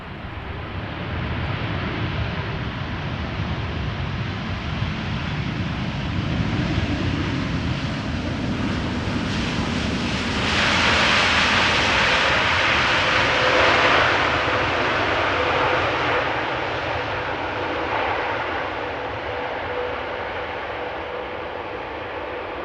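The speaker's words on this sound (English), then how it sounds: "787-9 Dreamliner." A Boeing 787-9 Dreamliner arriving at Amsterdam Schiphol Airport builds from a steady engine roar to a loud, hissing peak as it passes close by, then fades slightly, sustained for over twenty seconds without talk.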